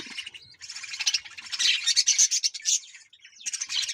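Pet birds being bathed in cold winter weather squawk and chirp in shrill, busy bursts, close by and fairly loud, with short pauses between flurries.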